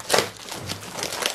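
Crinkling and crushing of packaging as a box of vintage fishing lures is carefully opened, with a couple of louder crackly bursts and softer rustling between, close up and without speech.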